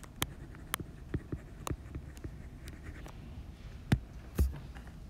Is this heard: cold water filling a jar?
no